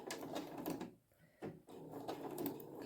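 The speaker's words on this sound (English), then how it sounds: "I'm going to back stitch." A domestic sewing machine stitches a patchwork coaster with rapid mechanical chatter, briefly stopping and restarting as it back stitches, then running steadily again, close and moderately loud.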